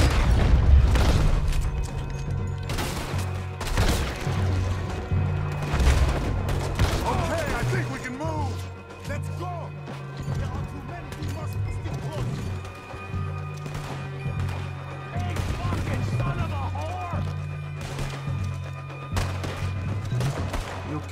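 Gunfire and booming shots in Red Dead Redemption 2 on Guarma, repeated bursts over a steady low rumble and busy game sound, with voices talking at times.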